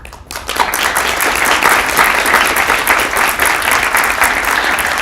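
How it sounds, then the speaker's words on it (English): Audience at a Japanese speech contest, the 51st Okuma Shigenobu Cup, breaks into loud, sustained applause for the judges, a thick, steady wash of clapping that holds for about five seconds. "Could we all please give them another resounding round of applause?"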